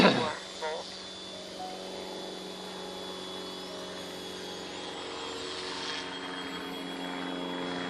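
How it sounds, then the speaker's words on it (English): Small 8.4-volt drone flying at wide-open throttle, a steady high buzzing whine with tonal harmonics held throughout, fairly near, some faint voice-like sound early on. "I'm flying my drone."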